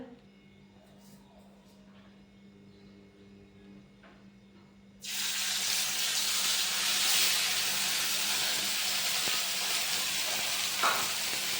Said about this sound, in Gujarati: તેલ ગરમ થઈ ગયું છે તે પનીર નાખી દઈએ અંદર